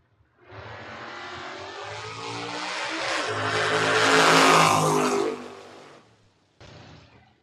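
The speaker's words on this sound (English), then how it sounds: "The Vega Wagon here, Tower Side, taking on the Camaro." A Chevrolet Vega wagon and a Camaro launch off the line at a drag strip, engines roaring loud and close, swelling as they pull away before cutting off, with a brief burst of engine noise at the end.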